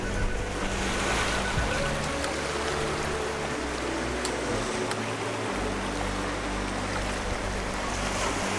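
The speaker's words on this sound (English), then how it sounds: "There's a lot of nice action in the water as it's going through." Ocean waves surging and washing through rocks along the shore at Beavertail State Park, a steady, loud, continuous rush of surf with no voices.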